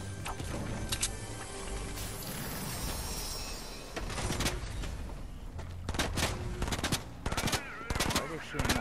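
Rapid automatic gunfire bursts and single shots from a Call of Duty style video game firefight, loud and repeated across the clip with short pauses between volleys.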